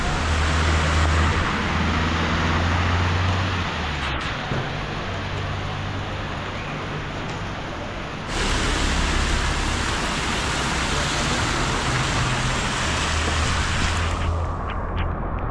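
Steady rain falling on a street in Nicosia, North Cyprus, a continuous broadband hiss of drops on pavement with faint passing traffic beneath, briefly quieter midway before the downpour swells again.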